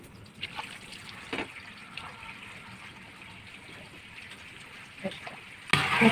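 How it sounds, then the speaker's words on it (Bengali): Water gushes into a cooking pot holding egg, lentils and potatoes. The pour begins abruptly and loudly near the end, after a stretch of faint, scattered kitchen clinks. "এখন আমি জল দিয়ে দেব।"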